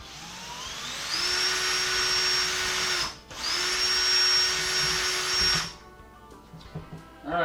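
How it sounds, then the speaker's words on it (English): A power drill bores holes through the sidewall of a wall cabinet: two loud, sustained high-pitched whines separated by a brief pause, then the motor winds down and a few light knocks follow. "now we have our holes drilled"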